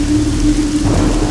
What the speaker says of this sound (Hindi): इतनी बारिश क्यों हो रही है?